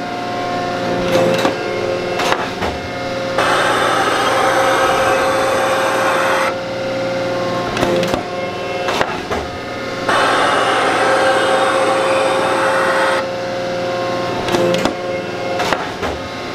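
Wood planer machine planing boards, a loud steady cutting roar in long passes that start and stop abruptly, with brief knocks between passes and a constant motor hum underneath.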